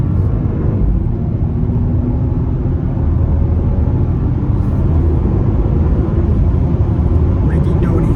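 A Volkswagen Touareg in sport mode accelerates, heard from inside as a loud, continuous low engine and road rumble that holds steady throughout, with speech at times over the top.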